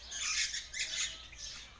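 Captive-bred king parrots and other aviary birds such as musk and rainbow lorikeets give loud, harsh squawks in three rough bursts, close and with no talk over them.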